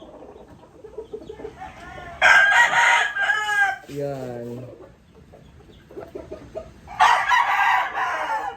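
Roosters crow loudly and close by outdoors in strong wind, one long crow early and another near the end, with brief speech between them.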